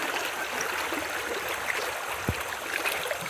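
River water flows steadily in a Borneo river, a continuous broadband rush of stream noise that holds even and unbroken throughout, with a brief low thump partway through.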